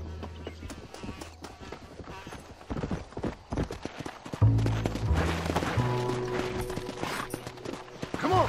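Horse hooves clip-clop at a steady trot in the Red Dead Redemption video game, the beat running under a dense mix of music and game noise, moderately loud throughout.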